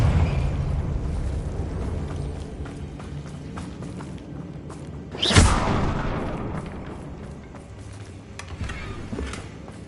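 Confringo blasting spell from Hogwarts Legacy erupts in a single loud explosive burst midway, rising out of a rumbling battle bed of low noise and scattered impacts, then fading back into the din.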